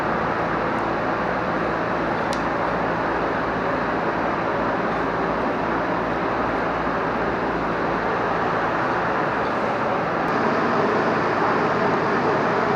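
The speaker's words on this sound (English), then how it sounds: "I'm sorry about the noise of the fan, but it's really hot in here." An electric fan runs in a hot garage during a Firebird rear hatch glass install, giving a steady, loud broadband whoosh that holds evenly throughout without pause.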